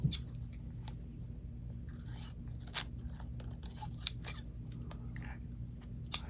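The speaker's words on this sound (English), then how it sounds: "I have some masking tape on it, and I would cut a piece long enough to be able to go around my finger." Masking tape snipped with scissors, heard as a few quiet, sharp cuts spread over several seconds against a low steady background hum.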